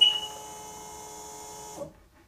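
A Sea-Doo XP DI personal watercraft with electrical issues powers up once its tether is plugged in: a short beep, then a steady electronic whine and hum for under two seconds before it cuts to silence.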